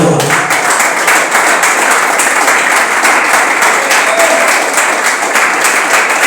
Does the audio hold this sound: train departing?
no